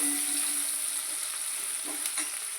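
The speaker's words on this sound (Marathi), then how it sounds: "अशा प्रकारे आपल्याला मस्त हा ठेचा तळून घ्यायचा आहे" Garlic, cumin and salt thecha frying in a pan, a steady close sizzle with a constant bright hiss and faint stirring scrapes, no talking.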